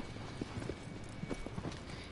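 Horse hooves clip-clop at a steady walking pace in Shadow of the Colossus, a series of soft, moderately close hoof strikes over faint ambient background.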